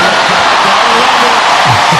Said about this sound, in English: So you can hear the crowd.